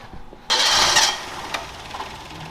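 A Geo car engine catches abruptly and fires up loudly, then settles into a steady, quieter idle, heard close with no talking.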